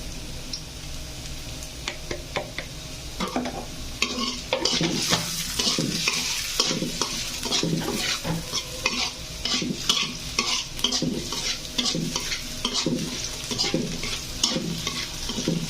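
Food fries in a pan while a utensil stirs and scrapes it. Sizzling runs steadily underneath quick, repeated clinks and scrapes that grow busier and louder after the first few seconds, with no talking.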